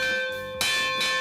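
A large bell rings loudly with long, sustained overtones, struck twice with a sharp attack each time, close by and with no talking.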